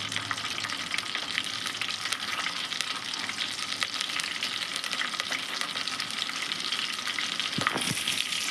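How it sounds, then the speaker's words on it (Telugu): Onion pieces fry in hot oil with a dense, even crackling sizzle that stays loud and close throughout, with a few sharper pops and a short stirring scrape near the end. "కొద్దిగా ఉల్లిగడ్డ ముక్కలు అయితే వేస్తున్నానండి"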